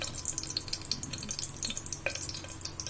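Steady crackling sizzle of spices frying in hot ghee for mint rice, with bright popping and spitting throughout and a brief clink partway through.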